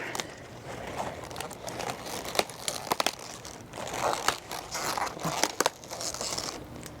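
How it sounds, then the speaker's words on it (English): A knife cuts a cauliflower head off the plant in a garden: close crunching and rustling of leaves and stalk in several uneven bursts. No talking. "A knife. I'm just gonna go. Cut it off there."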